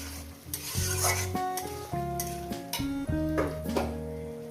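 Lentil dumpling curry with coconut powder and water is sautéed in a pan, with a continuous close sizzle and repeated spatula scrapes and stirring strokes under steady background music.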